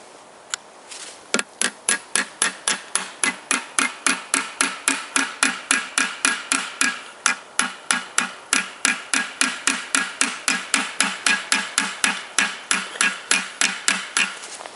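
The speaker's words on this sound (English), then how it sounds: "then a little bit hammering" Rhythmic metal hammer blows drive a knife into a joint of a Toyota VVT-i engine block during crankshaft bearing disassembly, dozens of sharp, evenly spaced strikes, loud and close.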